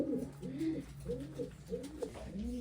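Domestic pigeons in a home breeding loft coo in a steady series of low, rolling calls, several overlapping and fairly close, with no voices.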